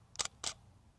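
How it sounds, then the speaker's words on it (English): A camera fires a flash photo with two quick, crisp shutter clicks close together, faint against a quiet room. "So now we'll pop up that flash and we'll take another shot."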